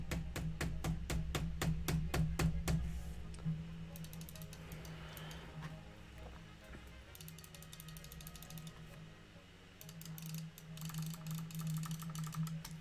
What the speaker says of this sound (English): you can hear me clicking E.